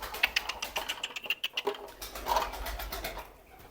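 Soft pigeon coos close by, from ornamental tumbler pigeons in quarantine, a few low rounded calls mixed with light tapping and rustling sounds.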